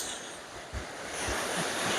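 Rough storm surf on the sea at Odesa churns and crashes continuously, with broad roaring wash and low gusty rumbles, close and fairly loud, no voices.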